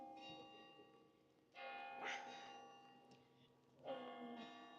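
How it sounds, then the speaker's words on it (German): Church bells ring in Traunstein, Bavaria, with rain falling, sounding as sustained, resonant tolls at a moderate distance, with a few overlapping strikes and faint nearby voices. "Ja, bei uns läuten noch die Glocken, gell, und nicht der Muezzin."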